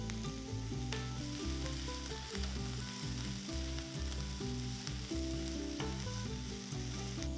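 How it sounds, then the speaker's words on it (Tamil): Onions and cashews sautéing in a pan, a continuous close sizzle and crackle over a steady background hum, with occasional light clicks from stirring. "ஸோ ஒரு 5 நிமிஷம் வெங்காயத்தை சாட்டே பண்ணியாச்சு."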